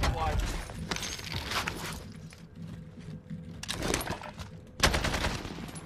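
STEN submachine gun fire on Rebirth Island in Warzone, with bursts of rapid shots in a busy game mix, a loud crack near the end, and talking over parts of it.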